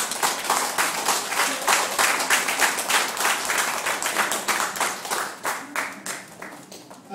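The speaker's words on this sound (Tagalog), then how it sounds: "Isa pang palakpak." Audience applause at a gathering of an Intramuros visual artists' group in the Philippines, dense rapid clapping from many hands, loud and close at first, then thinning and fading toward the end, with no talk over it.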